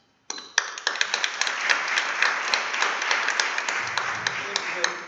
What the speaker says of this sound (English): thank you all for your kind applause